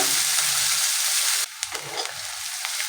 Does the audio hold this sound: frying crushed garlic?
yes